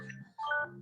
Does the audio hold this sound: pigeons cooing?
no